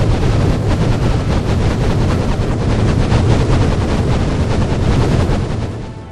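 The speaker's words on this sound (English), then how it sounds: "I'm just going to pull this trigger." Side-firing fire guns shooting in the Minecraft Movecraft mod: a dense, continuous barrage of rapid gunfire-like bursts, loud and close, sustained without pause for several seconds with no talking.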